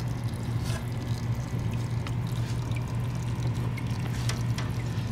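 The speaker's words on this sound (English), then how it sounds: "This is our waterfall." A small waterfall trickles steadily inside a paludarium, a continuous soft splashing wash of running water over a low, constant hum of equipment, close and even throughout with no talking.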